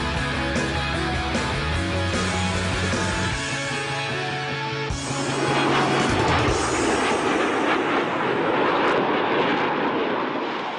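Loud, continuous roar of a MiG-29 jet fighter flying solo aerobatics at an air show, the engine noise swelling and shifting in pitch as it passes, with overlapping tonal sound underneath early on.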